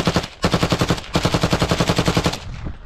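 Rapid machine-gun bursts in combat at a Ukrainian army strongpoint near Novomykhailivka, two long strings of evenly spaced shots with a brief pause between them, loud and close, ending in a fading echo.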